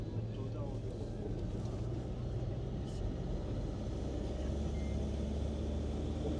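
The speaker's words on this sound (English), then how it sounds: "We are driving on the left." Car driving on a road in Larnaca, Cyprus: a steady low engine and road rumble throughout, with a voice talking over it.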